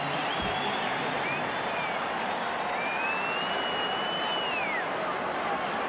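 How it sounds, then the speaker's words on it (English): Stadium crowd roaring steadily through a 1989 rugby league major semi final between Souths and Balmain, a dense continuous wash of cheering with whistles rising above it, no one speaking. "This crowd's enjoying a sensational match."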